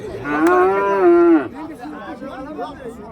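Cattle low at a livestock market where bulls, heifers and Simmental cows are traded: one long, loud, close moo with a rising then falling tone, followed by fainter market chatter and calls in the background.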